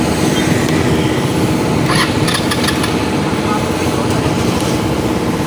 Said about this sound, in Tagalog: Naka-andar na ito.